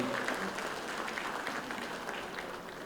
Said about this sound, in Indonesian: Tepuk tangan untuk Mas Anin.